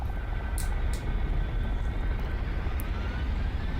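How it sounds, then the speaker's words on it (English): A Huey helicopter carrying a sling load flies in DCS World, a steady, dense rotor and engine roar that fills the scene at constant loudness, with a few brief high clicks on top. "there's a Huey coming in with a sling load"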